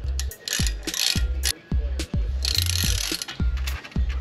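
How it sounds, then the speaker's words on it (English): A hand ratchet works a small brake screw on a 2017 Ford Explorer, giving a rhythmic series of sharp clicking strokes, each followed by a short ratcheting rattle, close up with no speech. "So we'll see if this gives me enough torque to loosen that little screw."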